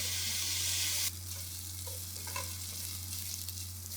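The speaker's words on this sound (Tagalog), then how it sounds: "Itutuloy lang natin ang paggisa dito hanggang sa mag-brown na yung pork." Pork sautéing in a pan for ginataang langka, a loud steady sizzle for the first second that drops to a quieter frying hiss with occasional stirring clinks and scrapes.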